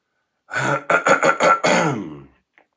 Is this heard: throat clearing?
yes